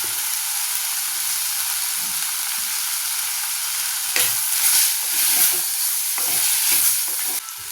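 Tomatoes frying in a pan for sambar give off a steady bright sizzle, near and loud, with a few louder bursts of spitting and stirring toward the end; nobody speaks.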